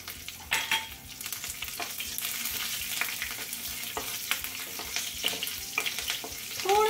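Cumin seeds, curry leaves and chopped green chillies crackle in hot oil as a tempering for sago khichdi, a steady close sizzle with sharp pops and a few stirring clinks of a spoon against the pan.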